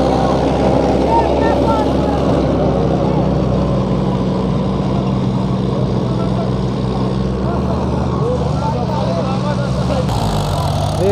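Two tractors, a John Deere 5042 D of 44 hp and a Mahindra 575 DI of 45 hp, rumble steadily side by side with a loud continuous diesel drone that shifts slightly near the end.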